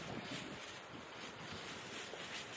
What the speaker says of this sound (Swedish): För det blåser åt helvete.